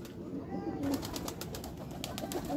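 Pigeons on a pigeon farm cooing, low repeated murmuring coos close by, with soft rustling and a faint voice in the background.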